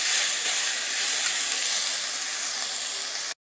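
Green peas and capsicum stir-fried over a high flame for egg fried rice give a steady, loud, hissing sizzle that holds evenly throughout, then cuts off abruptly.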